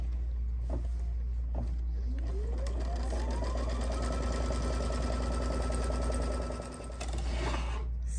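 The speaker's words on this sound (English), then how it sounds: "You just stitch the placement line for your batting." An embroidery machine stitches the placement line for batting on an Easter bunny basket tier tray project, a rapid needle chatter over a low motor hum that speeds up in pitch early on, then runs steadily.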